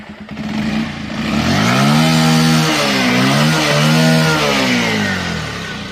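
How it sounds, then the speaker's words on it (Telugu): Bajaj Pulsar 125 motorcycle in neat condition, its engine revving up from idle and holding at higher revs with rising and falling pitch, loud and close throughout. "ఒకసారి ఇంజన్ సౌండ్ వినండి"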